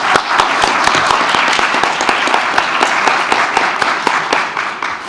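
An audience at an academic talk gives a round of applause: dense, loud clapping with sharp individual claps standing out, sustained for the full five seconds.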